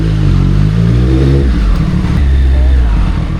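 A Triumph Street Triple 765 RS engine drones loud and close throughout a ride, with its low pitch shifting as it pulls, mixed with steady wind rush.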